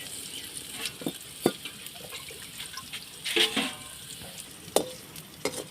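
Semolina being dry-roasted in a pan for Tirunelveli-style rava upma: a spatula scrapes and stirs in irregular near strokes with a soft sizzle, and no one speaks.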